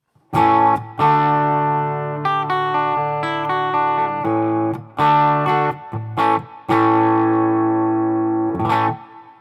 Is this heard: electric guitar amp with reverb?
yes